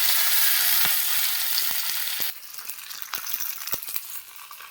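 Curry leaves frying in hot oil for tempering an eggplant tamarind curry, a loud bright sizzle that drops sharply halfway through, followed by lighter crackling and a few spoon or pan clinks.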